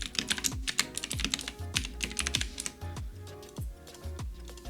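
Fingers tap out an email address on a computer keyboard in quick, irregular runs of close, crisp keystrokes, with brief pauses between bursts.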